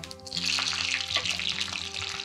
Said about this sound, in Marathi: फोडणी करता इथे तूप गरम केलेलं आहे, साजूक तूप. यामध्ये जिरं, मिरची.